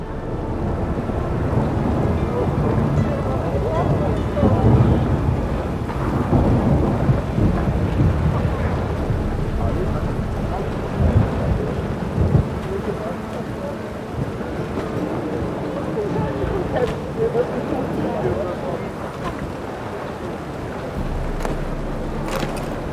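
Thunder rumbles through steady rain in a thunderstorm from The Witcher 3, a continuous loud wash with deep rolling peaks and no talk.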